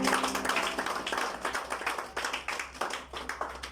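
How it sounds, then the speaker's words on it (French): A church congregation applauds for the Lord at a French-language worship service led by Pastor Gustave, with steady, dense rhythmic clapping from many hands filling the room without pause. "Est-ce qu'on peut acclamer pour le Seigneur?"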